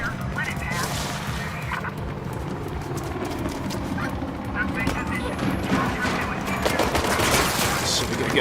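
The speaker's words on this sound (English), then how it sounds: "Shit, we got a guy shooting us." Gunfire in a video game, rapid volleys of shots mixed with a busy game soundscape of hoofbeats and commotion, fairly loud and continuous, with voices talking over it.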